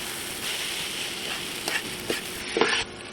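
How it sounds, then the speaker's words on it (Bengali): Noodles frying in a pan with noodle masala, a steady close sizzle running throughout with a few sharper stirring scrapes near the end. "নুডলসের মশলাগুলো নুডলসের সঙ্গে আবারও একসঙ্গে ভেজে নিব।"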